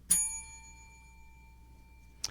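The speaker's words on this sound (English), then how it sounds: "I will employ what I have called the inappropriate bell." A single bright bell ring, a bicycle-style bell used as a game-show panel's 'inappropriate' signal, rings clear and close, then decays slowly into quiet, with a short thump near the end.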